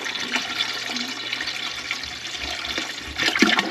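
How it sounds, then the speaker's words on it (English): Water is poured into a vinegar-and-mustard BBQ sauce, a little over half a gallon, making a continuous splashing, gurgling flow nearby that swells slightly near the end. "we're gonna add, this is probably a little over a half gallon of water to our sauce."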